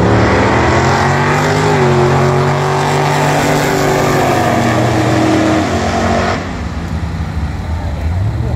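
Vintage drag race cars roar down the strip at the Little River drag event, with loud engines climbing steadily in pitch under full acceleration before the roar cuts off and fades near the end.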